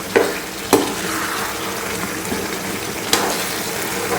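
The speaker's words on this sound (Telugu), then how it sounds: "ఇప్పుడు మనము అల్లం వెల్లుల్లి పేస్ట్ వేసేసుకున్నాం. ఇది కూడా వేగే వరకు 1 minute వెయిట్ చేద్దాం." Chicken frying in a pan with ginger garlic paste for onion chicken fry, a soft steady sizzle with a few sharp clinks of a spoon stirring against the pan, nobody speaking.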